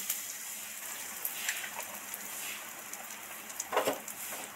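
Whole spices (dried red chilli, cracked cardamom, cinnamon sticks, a bay leaf) and a pinch of asafoetida sizzle in hot oil for a soybean potato curry, giving a steady faint hiss with a few small pops and crackles.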